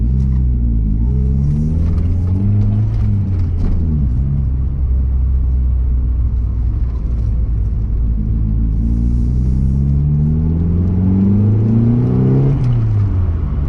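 A Mazda 323 Familia B6T turbo drives a short lap, its engine droning loudly and steadily with rising and falling revs, a deep rumble throughout and no talking.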